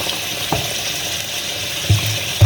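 Water from a tap runs steadily into a pot of chicken for a curry, a constant close gush with a couple of brief clunks, and no voices.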